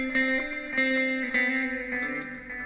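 A sustained electric guitar solo drenched in reverb and echoing delay, each plucked note ringing out and trailing off, with no voices.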